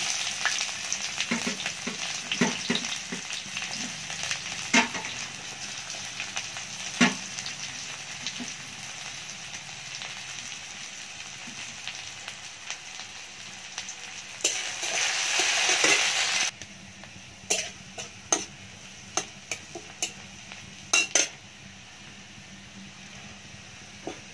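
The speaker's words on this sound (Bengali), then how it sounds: "তেল গরম হয়ে গেছে, দিয়ে দিলাম একটা শুকনো লঙ্কা আর 5 ফোড়ন, আর দেবো পেঁয়াজ কুচি" Dried red chili, five-spice and chopped onion fry in hot oil in a pan over an earthen clay stove, a steady close sizzle with sharp crackles and a louder hissing burst partway through, no voices.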